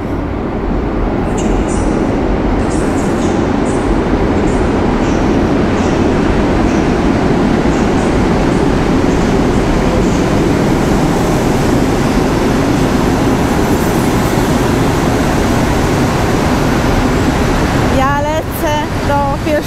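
A TLK passenger train hauled by an EP07 electric locomotive rolls loudly into a station platform, its rumble and wheel noise filling the whole stretch, with squealing brakes near the end as it slows.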